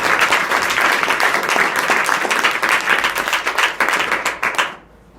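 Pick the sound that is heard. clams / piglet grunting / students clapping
students clapping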